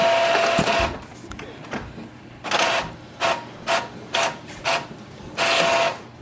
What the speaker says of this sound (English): For example, I'm just going to print right now.